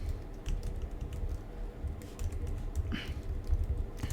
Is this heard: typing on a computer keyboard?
yes